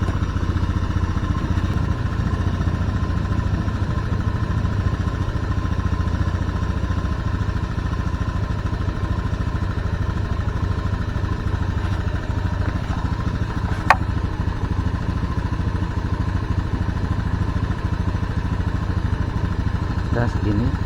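A Honda Scoopy PGM-FI motorcycle, fitted with a replacement K25 Beat FI coil, idles at a lowered RPM of about 1500–1600, holding a steady close, continuous low drone throughout with a single brief tick partway.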